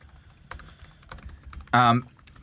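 Soft, irregular keystrokes on a computer keyboard during a lookup, with scattered clicks and a brief voiced sound near the end.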